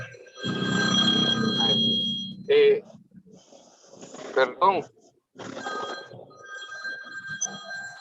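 A mobile phone rings during a meeting, its tonal ringtone bursts repeating in short bursts, mixed with people talking nearby.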